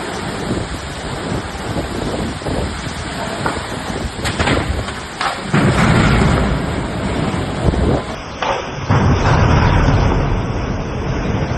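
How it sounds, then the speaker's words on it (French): Stormy outdoor roar of tropical storm wind and rushing water or surf on a Caribbean island, loud and continuous with heavier gusts swelling midway, no voices. "La tempête tropicale Ernesto a frappé l'île de Saint-Martin dans les Caraïbes"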